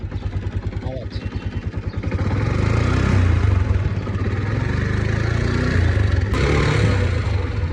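A Yamaha FZ V1 motorcycle engine idles with a rapid, even putter, then the revs rise into a steadier, louder drone that holds until the end.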